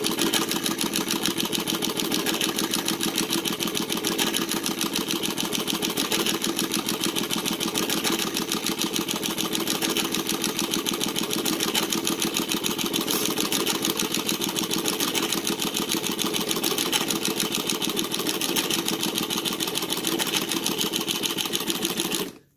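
A Cornely A chain stitch embroidery machine runs a fill stitch on a jacket, a steady, rapid mechanical whir and rattle held for over twenty seconds before stopping abruptly.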